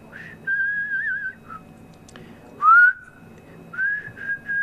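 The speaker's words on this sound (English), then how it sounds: "when I whistle, I often whistle sideways like this." Several short whistled tones, clear and fairly loud, with pauses between phrases and one brighter rising note in the middle; no talking.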